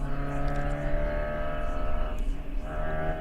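A race car in a ChampCar endurance race at Watkins Glen, onboard in traffic, its engine droning steadily and swelling as the driver eases gently onto the throttle, loud and close throughout.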